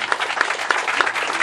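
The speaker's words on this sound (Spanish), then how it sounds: "Hay que darle un fuerte aplauso a ellos, porque se lo merecen." An audience claps at an outdoor community handout of fishing nets in Colonia Belén, Cantón El Coyolito, in 2016, a short burst of brisk, uneven claps that are fairly close and not covered by speech.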